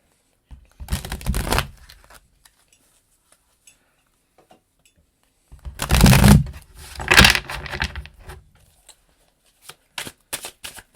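Tarot cards being shuffled up close in two loud riffling bursts, then a few quick flicks and taps near the end.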